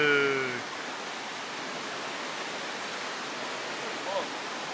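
Water from a stream or waterfall along the Bridge to Nowhere hiking trail makes a constant broadband rush throughout. A voice is heard briefly at the start.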